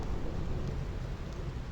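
A steady thunderstorm at the Thunder Plains in Final Fantasy X: a dense, constant rush of rain and rumbling continues without a break, low and heavy.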